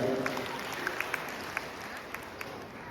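Audience applauding musicians at a father's retirement celebration, a moderately faint wash of many hands clapping together with a few sharper individual claps standing out, steady for the whole stretch.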